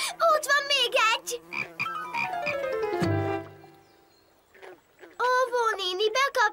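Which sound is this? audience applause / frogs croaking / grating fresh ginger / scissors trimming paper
frogs croaking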